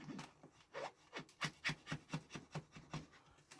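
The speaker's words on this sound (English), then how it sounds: "little hobby chisel and I'm going to do some gouging across some of these floor pieces" Small hobby chisel gouging across scenery floor tile pieces, a quiet series of about a dozen short rhythmic scraping strokes, close and dry, with no voices.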